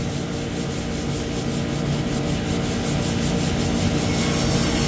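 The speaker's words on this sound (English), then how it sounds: "Clean these edges up with the sandpaper." Hand sanding along the edges of a UV clear-coated panel with sandpaper, a steady, continuous close scratchy rubbing that holds even and loud throughout with no talking.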